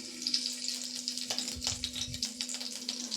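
Curry leaves hit hot oil in a pan while dhokla is being made and give a soft, close crackle and spatter. The sizzle is fairly quiet and continuous, with a brief low thump partway through.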